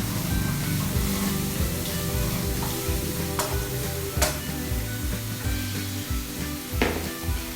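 Nuts sauté in a pan while making an aval (flattened rice) dish, giving a continuous close sizzle and crackle broken by occasional sharp scrapes and knocks of stirring.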